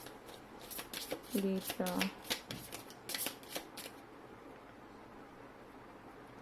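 Advice cards for a card reading are riffled and shuffled in several quick, close bursts over a few seconds, with a single spoken word heard among them, then quiet.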